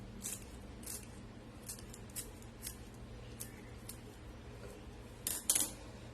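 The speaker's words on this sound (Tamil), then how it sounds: "இது கூடவே கொஞ்சமா கொத்தமல்லி தலையும் இந்த மாதிரி நறுக்கி போட்டுக்கலாம்" Kitchen scissors snip coriander leaves over a pot of bottle gourd dal, a series of crisp, fairly close snips at an irregular pace, ending with a quick double cut, with no one speaking.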